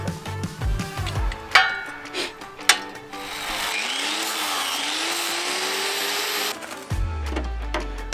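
Angle grinder cutting away a rusted panel on a Mazda Miata, a steady sustained whine lasting several seconds between clanks and shop noise, fairly close.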